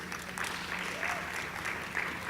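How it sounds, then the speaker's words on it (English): Audience at an arts showcase gives a soft, steady round of applause, heard at a distance and fairly faint, with a murmur of voices underneath. "We can give him another round of applause as he's coming."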